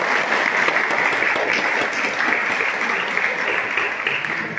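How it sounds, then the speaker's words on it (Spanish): Audience applause for a coastal school choir at a 2022 choral festival, dense sustained clapping filling the hall for several seconds, loud and even, with faint voices underneath. "nuestro profesor Edison Rodríguez, que le pido un aplauso."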